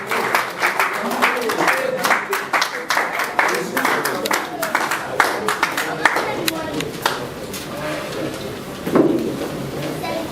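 A crowd at a Nigerian Society of Engineers gathering hosting its president claps in bursts, uneven and fairly close, with voices and murmuring running through the applause.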